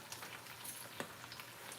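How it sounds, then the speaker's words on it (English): Fatty pork frying in oil gives a faint, steady sizzle with scattered soft crackles and pops, heard close with no talking. "I burned my hands while I'm frying this fatty pork."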